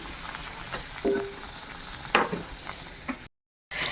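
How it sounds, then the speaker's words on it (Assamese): Boiled potato pieces frying in a pan, a soft sizzling hiss broken by a few sharper scrapes and clatters, ending in a moment of silence before the sizzle resumes. "আৰু আলুকেইটা এতিয়া ভাজি ল'ম।"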